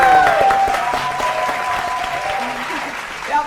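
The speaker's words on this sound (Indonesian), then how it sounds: "kita kasih tepuk tangan semangat dulu untuk kedua tim" A studio audience at a televised quiz show applauds both competing teams, a steady wash of clapping that carries on for several seconds with faint voices underneath.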